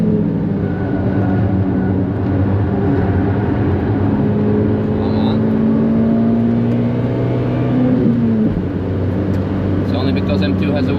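A Daihatsu Copen engine drones loudly from inside the cabin on the Nürburgring, its pitch climbing then dropping through a gear change near the end, with people talking over it.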